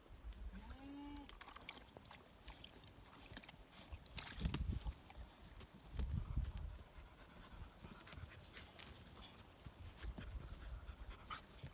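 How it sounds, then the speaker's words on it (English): A Great Pyrenees puppy on a farm pants softly and rapidly in quick breathy bursts, close by and quiet, with a few brief bumps and rustles in between. "Hank is a Great Pyrenees puppy"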